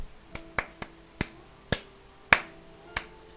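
Sharp, isolated claps ring out one at a time at irregular intervals, about seven in all, crisp and close in an otherwise quiet room.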